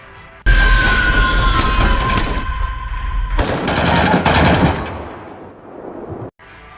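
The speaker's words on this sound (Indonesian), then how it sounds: "yang membuat Abdi terkejut mendengar suara tembakan" Loud sustained bursts of automatic gunfire, a rapid rattling stream that breaks off and resumes, then fades into a brief quiet.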